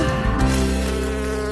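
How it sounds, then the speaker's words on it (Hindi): A bee buzzes close by near a plate of honey-topped waffles, a steady droning hum that holds evenly through the moment without speech. "ओह, मधुमक्खी, तुम्हारी यहाँ जरूरत नहीं है"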